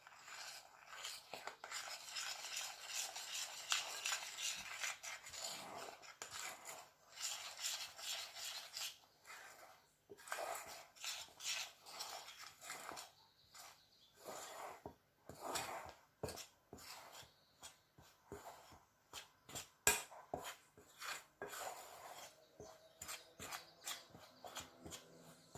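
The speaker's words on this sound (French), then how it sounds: "J'utilise la même cuillère pour commencer à mélanger." A spoon scrapes and rubs through bread dough ingredients in a bowl, irregular gritty strokes at close range, quiet with frequent short pauses and no talking.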